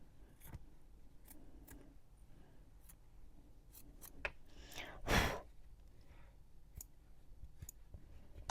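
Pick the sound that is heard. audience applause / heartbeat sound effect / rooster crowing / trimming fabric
trimming fabric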